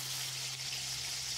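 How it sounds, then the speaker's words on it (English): Bacon frying in a pan in a video game, giving a soft, steady sizzle with a faint low hum beneath, quiet and continuous for a brief moment. "Oh, we're cooking up bacon now."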